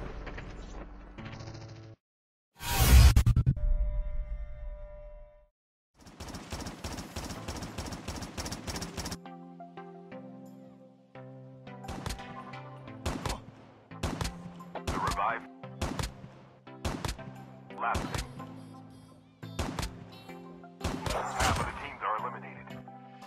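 An HG-40 submachine gun fires in Call of Duty Mobile, a loud opening blast followed by rapid automatic bursts and then a string of evenly spaced, punchy shots, with sparse in-game sounds between them.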